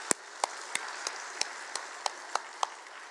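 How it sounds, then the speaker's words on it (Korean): Sparse, sharp individual claps ring out one at a time at an even pace in a quiet church sanctuary, honoring the choir, fairly faint with no crowd roar. "우리 수고하신 호산나 찬양대 위에 한 번 더 박수로 격려하도록 하겠습니다."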